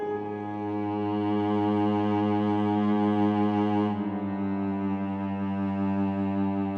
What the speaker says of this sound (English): it's just a cello, a little bit sound designed cello